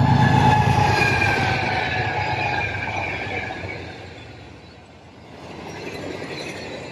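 A train rumbling along a US freight rail line, a loud continuous roar with tonal horn-like hums that fade and then swell again as it passes, with no voices.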